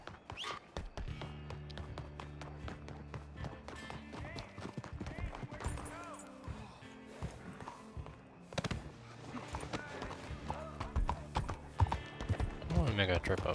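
Horse hooves clip-clop steadily in Red Dead Redemption roleplay gameplay, trotting along under a man's near, continuous talk with game music and other effects mixed in.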